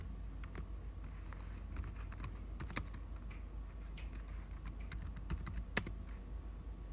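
Steady keystrokes on a computer keyboard, typing out a short line of text in quick irregular bursts with one or two harder taps, close and clear over a low constant room hum, no voices.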